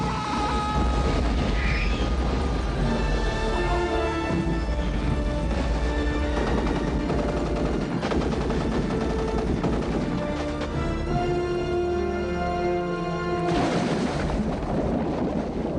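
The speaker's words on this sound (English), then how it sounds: "And in The Long Kiss Goodnight, Gina Davis and Samuel Jackson outrun a big explosion." Film action scene from The Long Kiss Goodnight with a big explosion and gunfire, a dense, loud continuous roar of blasts, crashes and shots layered under a swelling music score throughout.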